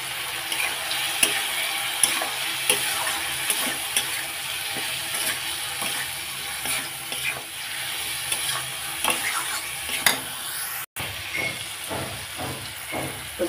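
A masala paste with radish and radish leaves sautés in an oiled pan, giving a continuous loud sizzle and hiss. Repeated scraping stirs punctuate it, with a brief cut near the end, and there is no talk.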